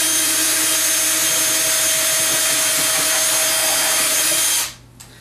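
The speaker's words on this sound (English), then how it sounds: "I can take the hole saw and drill back up through from the back side for a cleaner cut" A power drill spins a hole saw up through the back of a Danby compact refrigerator, cutting into its insulation from inside. The whine holds loud and steady for over four seconds, then cuts off abruptly.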